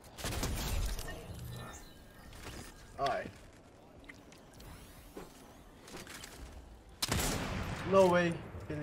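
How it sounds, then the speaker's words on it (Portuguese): Several loud, sharp sniper rifle shots in a solo arena video game crack out, spaced seconds apart, with faint mechanical clicks in between. "Tem um tiro de sniper"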